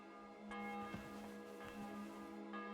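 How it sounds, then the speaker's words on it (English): A church bell in the medieval role-playing game Kingdom Come: Deliverance II rings out with several resonant, sustained tolls that overlap as they decay, moderately distant and quiet with no talk. "The bell's ringing for Hans the 5th time."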